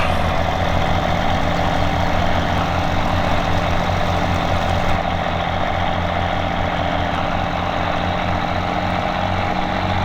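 Farm tractor engine running steadily at a constant idle-like drone, loud and close, with a deep rumble and a slight drop in high-end hiss midway; no talking.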